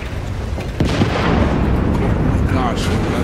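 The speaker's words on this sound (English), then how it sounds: "gosh, another explosion." A loud explosion in the horror video game Still Wakes The Deep: a heavy, sustained rumbling blast that fills the whole stretch, with a voice speaking over it.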